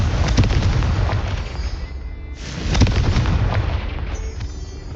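Confringo explosion spell in Hogwarts Legacy: loud booming blasts with deep rumbling tails, one burst near the start and another swelling midway, close and heavy with no talk.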